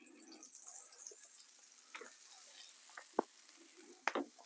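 Potatoes fry on a Blackstone griddle with a soft, continuous sizzle, broken by a few sharp clicks and scrapes of a spatula stirring them.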